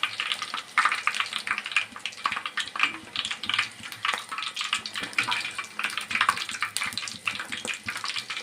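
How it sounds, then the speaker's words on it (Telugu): Puris deep frying in hot oil, a dense, continuous crackling sizzle with bubbly fluctuations, fairly close and heard alone. "ఇలా ఆయిల్లో డీప్ ఫ్రై చేసుకొని"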